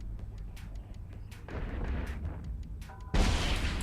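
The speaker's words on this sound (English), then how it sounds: "That's a pretty quick explosion." Explosions in EVE Online during a military career agent mission: a series of muffled booms and bursts amid space combat, the last blast sharper and louder, all fairly close with no talk.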